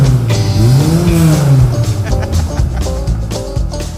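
A car fitted with a motorcycle muffler necked down to its original exhaust accelerates loudly nearby, the engine note climbing then dropping before settling into a rough rumble.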